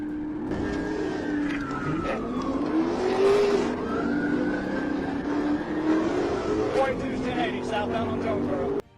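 Chrysler 300 SRT-8 with an outrageous paint job on a Georgia highway, engine droning steadily while rising and falling tire squeals and skids cut through, loud and continuous until an abrupt stop.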